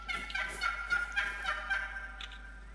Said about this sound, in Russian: Восточная дикая индейка. Слышите, как кричит?